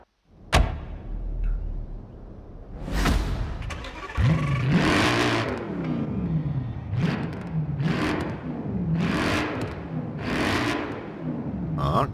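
A car engine starts and revs repeatedly in the racing game Forza Horizon 4, with a sharp opening crank followed by a series of rising and falling revs, loud and close, with no talk.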